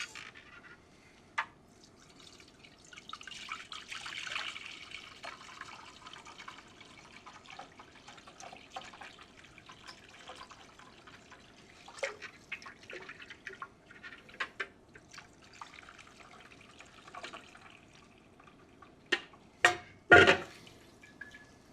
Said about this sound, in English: going to strain this again through a chinois or fine mesh strainer